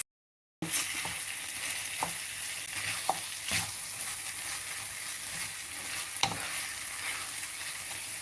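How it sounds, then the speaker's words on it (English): Tofu and egg sizzling in a pan, a continuous close frying hiss with occasional scraping stirs and small pops, starting after a brief moment of silence, with no talking. "I've added some tofu in there with the egg and just mix that and let that cook"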